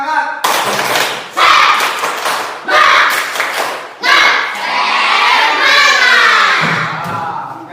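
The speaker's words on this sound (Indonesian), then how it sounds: "ada baiknya kita tepuk semangat dulu, biar lebih semangat lagi" Children clap and chant a spirit cheer together in a class setting, loud rhythmic bursts of clapping and shouted voices in several phrases close by.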